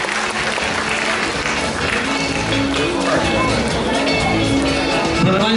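Loud, dense applause from a crowd at a charity auction on stage, continuous clapping throughout with a few voices mixed in.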